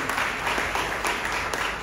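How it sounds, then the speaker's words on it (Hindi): A church congregation applauding, dense steady clapping from a crowd with a few louder bursts, continuous through the moment. "जोरदार ताली बजाकर प्रभु को महिमा देंगे।"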